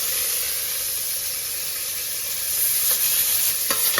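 Onions, green chilies and garlic fry in a pan with a loud, close, hissing sizzle that holds steady, then swells slightly as stirring picks up toward the end; no one speaks.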